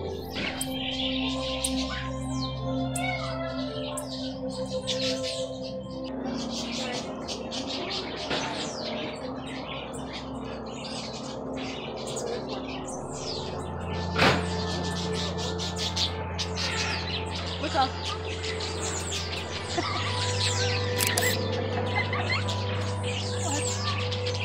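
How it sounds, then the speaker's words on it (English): Many tiny birds in an aviary chirp and tweet constantly, a busy chorus of overlapping calls at close range with a low background hum. "we are in another little area that's like a whole bunch of tiny little birds"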